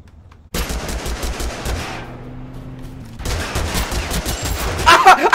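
Rapid automatic gunfire from a gun in Totally Accurate Battle Simulator: loud, close bursts of quick repeating shots, a brief lull with a faint hum, then another sustained stream of fire.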